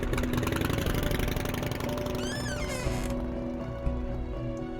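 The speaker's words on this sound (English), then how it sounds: "Oh, it's his motorbike." A motorbike engine idles in the Dracula 4 video game, a steady mechanical drone that runs throughout with a brief rising whine in the middle, fairly close and moderately loud.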